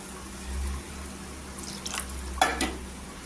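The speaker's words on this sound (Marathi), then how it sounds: "आता इथे पाणी टाकायचं. मी पाणी इथे गरम पाणी करून घेतलेलं आहे." Hot water hits coconut masala frying in a pan for a fish curry, setting off a close, hissing sizzle with a brief splashing burst and stirring scrapes over a steady low background hum.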